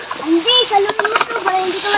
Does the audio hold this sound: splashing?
yes